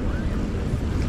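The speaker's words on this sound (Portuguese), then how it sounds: "E as ondas batem com toda a força." Ocean waves crash onto Candeias beach near Recife at a rising, murky tide, a heavy low rumble of surf mixed with wind buffeting the microphone.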